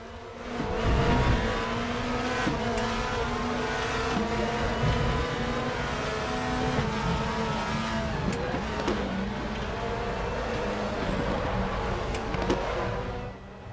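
Race car engines in RaceRoom roar loud and continuous as several cars run nose to tail, including Sébastien Loeb Racing entries, with steady high revs and brief gear-change dips.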